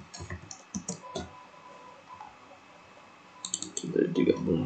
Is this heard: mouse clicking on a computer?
yes